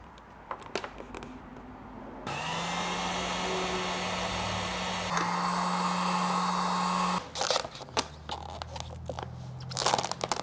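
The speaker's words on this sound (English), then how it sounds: "Heat gun is a very handy thing to have when you're doing this, especially when you're trying to work it around edges and corners." A heat gun blows in a steady, close whoosh for about five seconds while vinyl wrap is applied to a CFMOTO ZFORCE 950 Sport side-by-side, framed by light handling clicks and rustles.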